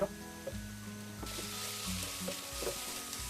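Onion and tomato frying in a pan for a protein roll recipe, a steady close sizzle with occasional clinks of stirring and a faint low hum underneath, no talking.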